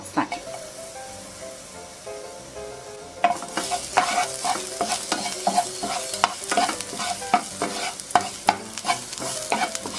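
Eggs frying in olive oil in a Teflon pan, quiet at first, then loud close sizzling with repeated sharp spatula scrapes and taps as they are scrambled.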